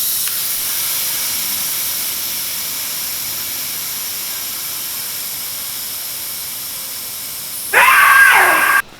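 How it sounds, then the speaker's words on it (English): Air hisses steadily out of a KX500 dirt bike tire as it is let down, a loud continuous rush with a sharper, brighter burst near the end before it cuts off. "We just have to let all the air out so we can get the tire off the wheel."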